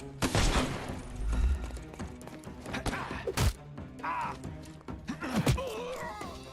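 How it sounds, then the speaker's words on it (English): Gunfire in the PS5 game Sherlock Holmes Chapter One, a volley of sharp loud bursts over a busy game mix, with groaning enemy voices and thuds in between. "So anyways, I started shooting."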